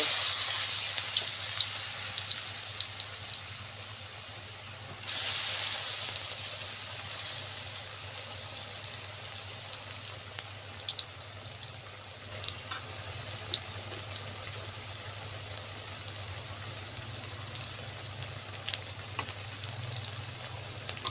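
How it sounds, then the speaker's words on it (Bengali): French fries fry in hot oil, a loud, dense crackling sizzle that carries on unbroken, with a sudden surge partway through and scattered pops above a low steady hum. "তেল গরম হয়ে গেছে, ফ্রেঞ্চ ফ্রাই ছেড়ে দেব"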